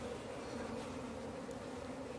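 Apis cerana indica honey bees, the native Asian hive bee, buzz around their colony in a steady, faint, unbroken drone with no talk over it.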